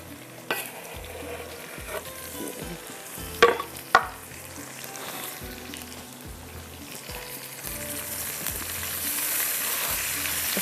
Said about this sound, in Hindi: इसको हल्का सा फ्राई कर लीजिएगा।